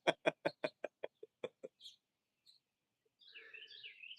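Backyard chickens in a coop: a quick run of about ten loud clucks in the first two seconds, a few isolated calls after, then a steadier stretch of softer chattering and chirping near the end.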